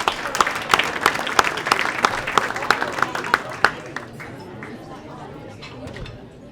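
Applause from a banquet audience at the annual St. George Coptic community dinner, with dense clapping that fades gradually to scattered claps and murmur.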